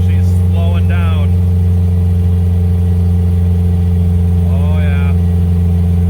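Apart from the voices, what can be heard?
1989 Dodge Raider engine wide open in 5th gear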